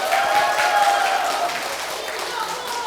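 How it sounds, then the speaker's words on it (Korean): An audience at a Korean talk event claps to welcome a speaker onto the stage, a moderate, sustained applause that eases slightly toward the end, with a voice speaking over it. "신영호 발표자님을 박수로 모시겠습니다"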